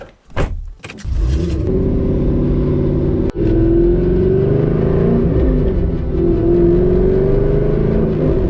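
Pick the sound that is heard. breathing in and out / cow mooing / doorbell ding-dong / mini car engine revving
mini car engine revving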